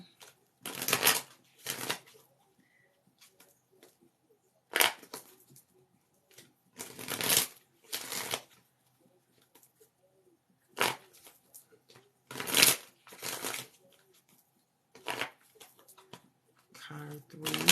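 Tarot cards being shuffled in repeated short riffling bursts, close and crisp, separated by quiet gaps, with a voice speaking softly between the shuffles.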